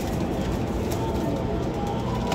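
Several Cheena Teddy pigeons coo softly in a steady, continuous backdrop, with faint clip-clop-like ticks and someone speaking over them.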